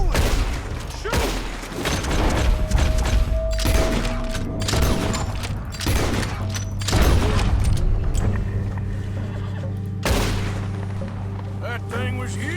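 Gunfire at a bear in Red Dead Redemption 2: a series of loud, booming shots crack out at irregular intervals amid rumbling game audio.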